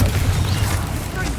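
A blasting Confringo spell in Hogwarts Legacy sets off a loud, deep, rumbling explosion that fills the whole moment with heavy low boom and crackling debris.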